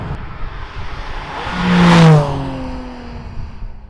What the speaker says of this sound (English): Those instant shifts when you get up to the red line.